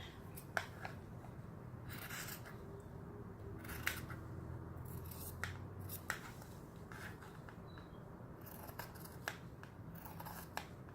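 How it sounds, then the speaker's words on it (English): Scissors trimming fabric for shabby chic junk-journal craft tags: quiet, close snips repeating at an uneven pace over a soft rustling background, with no voices. "So I'm going to leave like 1/8 of an inch, or yeah, it's about 1/8 of an inch or so around, and go ahead and cut that."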